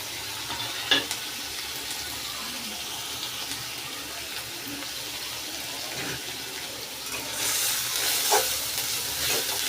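Kharkol leaf paste with salt and turmeric stirred in a hot pan, a steady soft sizzle with faint scraping of the spoon, quiet and close, swelling louder near the end with a brief sharper clink early on.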